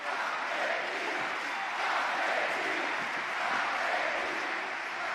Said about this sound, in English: Crowd again rises to a chant for their countrymen.